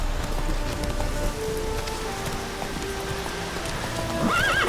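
A horse gallops with continuous hoof clatter over patter like rain, and a clear whinny rises near the end, loud and close.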